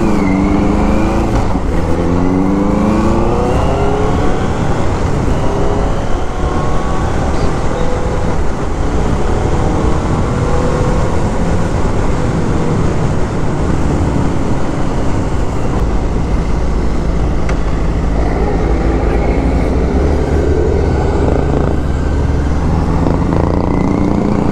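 Benelli TNT 600i motorcycle with stock exhaust, its inline-four engine running loud and close, with steady idle rumble and repeated rising revs throughout, no talking.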